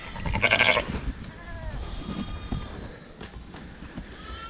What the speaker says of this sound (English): They're nice lambs.